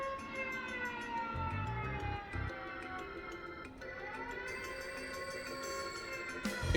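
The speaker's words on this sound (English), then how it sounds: "This siren!" A synthetic alarm siren in the video game Trails in the Sky wails continuously with layered electronic tones, shifting pitch midway, plus a few low thuds underneath.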